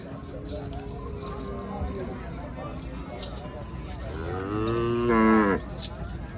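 A black cow at the Kharian cattle market lets out one long, loud moo near the end, while people talk in the background amid farmyard noise.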